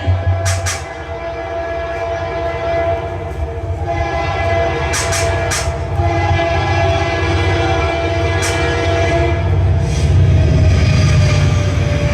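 A train rumbles loudly and steadily, with sharp horn blasts sounding several times over the continuous rolling clatter of the wagons, heard at a Maithili stage comedy dance program in Bihar.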